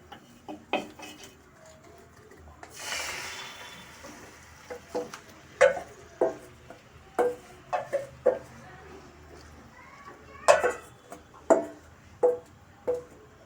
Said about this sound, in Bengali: এবার মাংসটা আমি কড়াইতে দিয়ে দেব।